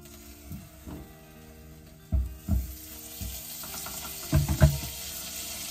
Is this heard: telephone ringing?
no